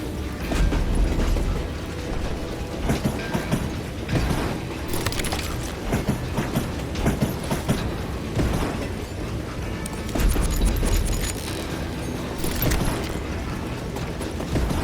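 A speeding train in the video game Call of Juarez: Gunslinger rattles and clanks steadily down the tracks, a dense, loud mechanical rumble with heavier surges partway through and no talk.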